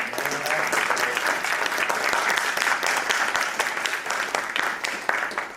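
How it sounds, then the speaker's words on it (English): An audience at a university student innovation and entrepreneurship event claps for the panel, a lively round of applause with distinct individual claps audible, steady and fairly close. "make sure to give them a round of applause, everyone."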